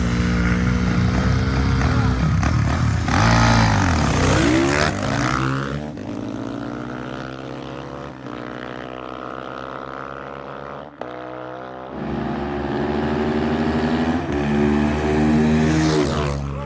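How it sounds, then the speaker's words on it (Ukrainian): A Geon GNX 2025 Chinese enduro motorcycle with a freshly tuned carburetor rides past at an enduro race, its engine loud and droning, pitch sliding down as it passes and then revving back up. "Ну, ви бачите, моцик їде."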